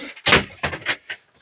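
A small cupboard door in a 2006 Kip Kompakt 37 EKV Variotop caravan is swung and shut, giving a few quick close-up knocks and clunks within a second and a half.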